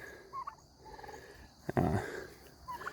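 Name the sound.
turkeys gobbling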